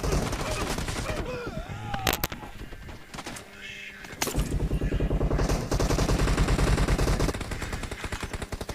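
Rapid video game gunfire, dense automatic bursts and single shots crackling almost continuously, loud and close, with a short lull midway before heavy firing resumes.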